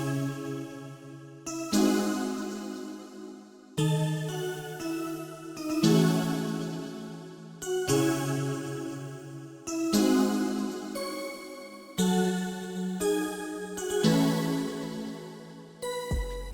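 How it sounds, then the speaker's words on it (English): Soft mallet-like chord hits from the OK chord preset in Expand for a smooth RnB beat, struck in a repeating pattern about every two seconds, each ringing out and decaying, with no voices. "So next we got these little like little mallet hits"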